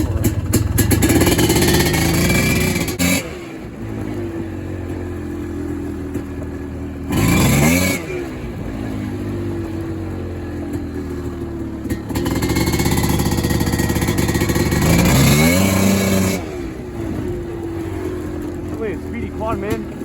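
A Polaris Scrambler 400 quad's engine revs loudly and repeatedly up close, with rising and falling surges over steady rumble, while someone talks over it at points.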